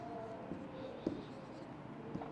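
Marker or chalk scratching across a classroom board while a graph on apples and cost price is drawn, soft continuous strokes with a few sharper taps, close and fairly quiet.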